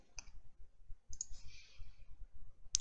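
Two or three faint, sharp computer mouse clicks are spaced apart over a quiet low background.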